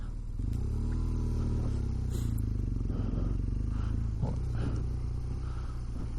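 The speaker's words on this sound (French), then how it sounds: "Ah, c'est un gros vélo, une moto." A large motorcycle passes along a cycling route in Ille-et-Vilaine, France, making a loud, deep engine rumble whose pitch shifts and wavers early on before settling into a steady drone that runs to the end.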